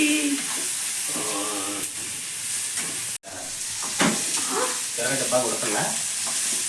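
Onions sizzling and frying in a hot pan in a home kitchen, a steady loud crackle with occasional stirring, with a brief cut midway.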